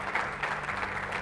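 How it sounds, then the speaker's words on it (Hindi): A short burst of audience applause in honour of Modi, steady dense clapping from a crowd filling the moment with no speech over it. "मैं चाहता हूं एक बार मोदी जी के सम्मान में तालियां बजा दी जाए।"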